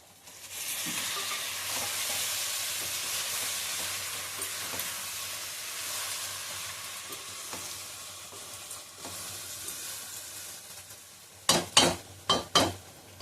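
Eggs fry in hot oil in a pan for a Telugu egg curry, giving a steady, close sizzle that runs nearly unbroken, then a few sharp utensil clanks against the pan near the end.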